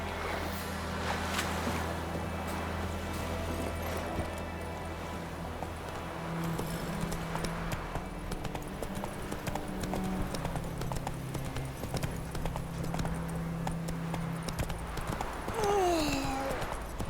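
Geralt's horse Roach gallops in The Witcher 3, a rapid, continuous clip-clop of hooves up close with game music and ambience beneath, and a brief spoken line near the end.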